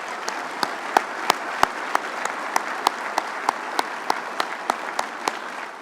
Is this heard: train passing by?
no